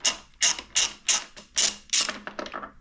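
Ratchet wrench clicking in quick repeated bursts, about six firm strokes then a faster flurry, as a bolt is backed out on a Ducati Monster 937 during an Ohlins shock install; close and loud with no talk.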